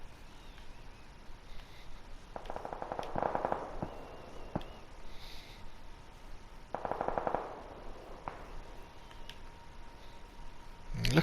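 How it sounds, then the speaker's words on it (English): Bursts of rapid automatic gunfire crackle in the distance in PUBG on Erangel (PS4), coming in two main volleys with scattered single shots between them. "sounds like we're maybe running towards lots and lots of gunfire"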